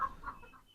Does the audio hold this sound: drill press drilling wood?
no